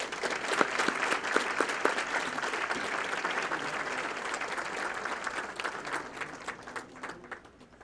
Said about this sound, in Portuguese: Recebamos com uma calorosa salva de palmas o deputado federal Arnaldo Jardim.